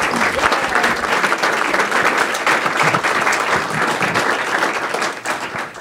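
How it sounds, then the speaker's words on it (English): An audience at a city council meeting in Chino breaks into steady, full applause, a dense wash of clapping that holds for several seconds and thins slightly toward the close. "Let's give a round of applause to the Larsons."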